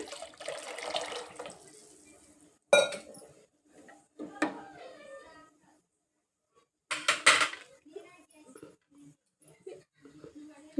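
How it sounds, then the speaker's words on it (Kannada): Water pours from a small vessel into a cooking pot for palak rice, several separate splashing bursts with quiet gaps and a faint clink of metal between them. "ಇನ್ನೂ ಒಂದು ಚರಿಗಿಲೆ ಒಂಚೂರು ನೀರು ಹಾಕೊತೀನಿ"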